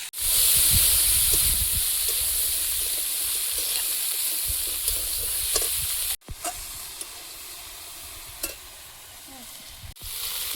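Okra, onion and three whole tomatoes frying in a pan in oil, giving a steady loud sizzle with occasional stirring clicks and scrapes, the hiss easing slightly midway after a brief break.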